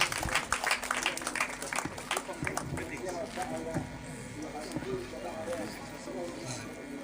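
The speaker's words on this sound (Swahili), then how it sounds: "Makofi kwake" A crowd claps for a graduate receiving a certificate at the IYF Garissa graduation ceremony. The clapping is dense and sustained, loudest at the start and gradually thinning, with voices mixed in.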